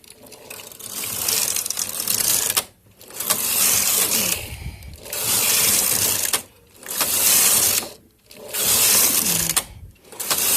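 Singer 350 knitting machine carriage on the punch lace setting, sliding back and forth in five loud whirring, clattering passes, each roughly two seconds long and separated by brief pauses.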